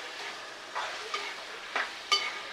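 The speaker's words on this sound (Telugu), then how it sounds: "మటన్ వేసిన తర్వాత ఒకసారి మిక్స్ చేసుకొని, ఆల్రెడీ కొంచెం సాల్ట్ వేసాం కదా ఆనియన్స్లో" Mutton and onions are stirred in a pot, a soft sizzle under several scraping stirs of the spoon, close and fairly quiet, with no talking.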